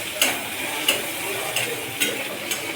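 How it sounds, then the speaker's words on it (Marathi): Chopped onions being sautéed in a pan for chicken masala, a soft continuous sizzle broken every half second or so by brief scraping strokes of a spatula stirring them, close and moderately loud with no talking. "कांदा मस्तपैकी परतून घालतो."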